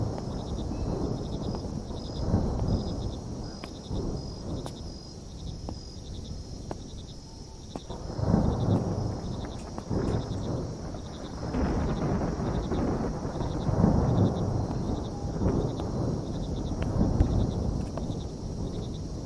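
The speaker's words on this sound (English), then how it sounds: "It's thundering with no rain." Low rolling thunder without rain rumbles in a video game scene, swelling in deep waves several times over a constant high chirping of crickets or insects, with no voices.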